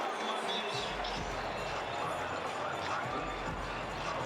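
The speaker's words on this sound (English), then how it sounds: "the Dodgers have this big crowd up and loud quickly" A big Dodgers crowd in a baseball stadium during a postseason game roars loudly and steadily after a base hit, a dense continuous wall of cheering with a commentator talking over it.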